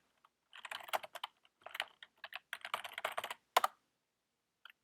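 A password is typed on a computer keyboard, quick uneven clusters of crisp key clicks close up in a quiet room, with one last isolated tap after a short gap.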